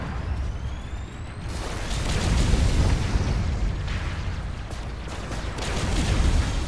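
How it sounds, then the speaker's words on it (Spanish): Cannon fire explodes in the video game Robocraft, loud booming blasts rolling into a dense, rumbling barrage that swells and fades over several seconds. "Y venga, toma cañonazos"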